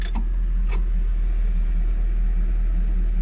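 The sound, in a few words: ZIL 130 truck engine running as clutch is released to lift dump body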